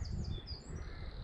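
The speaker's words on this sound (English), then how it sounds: "birds singing" Crows cawing outdoors on a peaceful nature walk among swaying trees, a few harsh calls carrying from a distance over a low rumble of wind.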